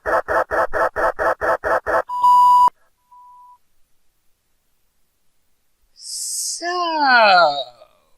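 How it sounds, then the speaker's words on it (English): Rapid rhythmic pulses lead into a single clear answering machine beep, a steady electronic tone lasting about half a second with a faint shorter echo after it, followed by silence and then a burst of noisy, warbling sound. "Please leave your name and phone number after the beep."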